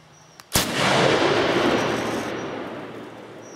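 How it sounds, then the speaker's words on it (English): A single .50 BMG rifle shot fired through a T6 muzzle brake cracks sharply nearby, followed by a long, booming outdoor rumble that slowly fades away. "It's much nicer to shoot, not as much concussion as the other two."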